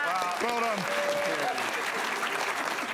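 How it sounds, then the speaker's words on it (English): A television studio audience for a comedy panel show claps and applauds in a steady, dense wash, with a voice talking over it. "Give him a round of applause."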